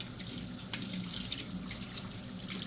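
Tap water runs steadily into a sink as garden-harvested vegetables are washed, a close continuous splashing hiss with a few small clatters and drips.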